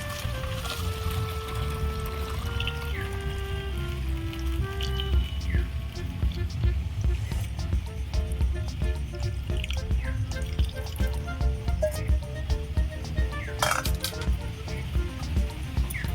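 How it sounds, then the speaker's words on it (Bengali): Water pours into a plastic drinking bottle for homemade vinegar, a close trickling stream whose tone rises steadily as the bottle fills, with light clinks and no speech. "এবার বোতলের মধ্যে আমি ভরে নেব"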